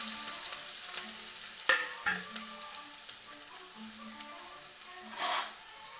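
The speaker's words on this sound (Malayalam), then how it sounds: "എണ്ണ ചൂടായി വന്നപ്പോൾ നമുക്ക് നമ്മുടെ ഇഞ്ചിയും വെളുത്തുള്ളിയും ചതച്ചത് ഇട്ട് കൊടുക്കാം." Crushed ginger and garlic sizzle steadily in hot oil, a close, even frying hiss broken by a few sharp clatters of stirring and a brief louder burst of spatter near the end.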